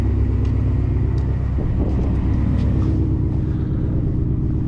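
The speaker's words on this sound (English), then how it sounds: "I love the way that this car sounds. It sounds really good at idle." Modified 2018 Ford Mustang GT V8 idling close by, a loud, steady deep rumble with a continuous low throb and no speech.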